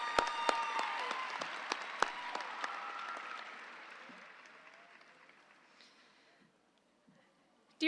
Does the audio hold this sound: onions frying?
no